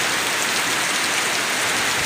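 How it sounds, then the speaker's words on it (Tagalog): Heavy rain pours down steadily as a dense, loud hiss of drops hitting a surface, constant throughout with no voices. "Lakas ng ulan."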